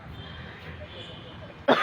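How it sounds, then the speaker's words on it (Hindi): A single short cough or throat clear erupts near the end after a stretch of quiet room tone. "कुछ लोगों को सर्दी और कुछ लोगों को खांसी हो रही है"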